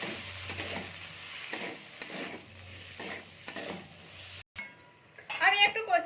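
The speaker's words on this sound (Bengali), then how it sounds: "দিয়ে টমেটোগুলো দিয়ে দিলাম এবার এর সাথে ভালো করে কষে নেবো" Tomatoes stir-fried in a pan with chili powder and coriander powder, a soft sizzle broken by scraping stirs, with a short gap and then brighter clinks and frying near the end; a voice talks over the cooking.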